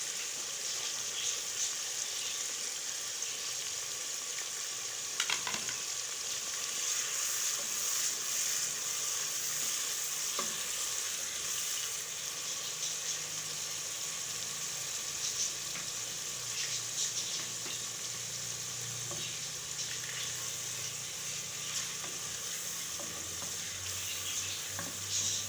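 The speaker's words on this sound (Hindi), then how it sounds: "और इसको भी अब इसमें मिक्स कर लेंगे इस तरीके से ताकि प्याज के साथ ये भी फ्राई हो जाए।" Onion and green chili frying in oil for lauki chana dal, a steady close sizzle with stirring scrapes throughout and a brief trickle of water in the background, no talk.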